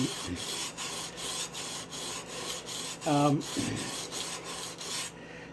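A hand plane cutting iron is rubbed back and forth on a yellow sharpening stone while being lapped flat, giving steady rhythmic rasping strokes close by with a brief harmonic squeak midway.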